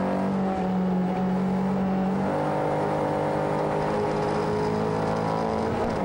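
A Caterham race car powers out of a corner at Croft, its engine note rising loud and close as it accelerates, then holding a strained whirring drone through the gear change.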